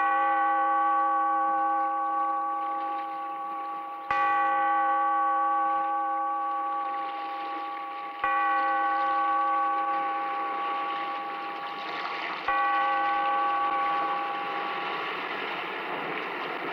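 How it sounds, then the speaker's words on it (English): A bell tolls four times at slow, even intervals of about four seconds, each loud ringing strike with clear sustained overtones that hang and slowly fade before the next, opening an old radio drama. "Bellkeeper, toll the bell, so that all may know we are gathered again"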